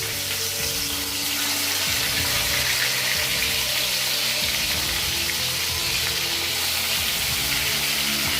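Four fish pieces frying in mustard oil in a wok give off a loud, continuous sizzle with a bubbling crackle underneath. It holds steady throughout, and no voice is heard.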